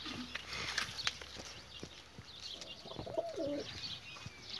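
Pigeons coo in a loft, soft repeated throaty calls near the end over faint chirps, wing movement and light clatter, with no speech.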